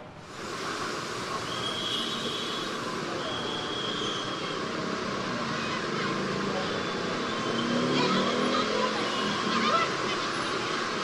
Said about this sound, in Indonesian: bagaimana kondisi arus lalu lintas di sana?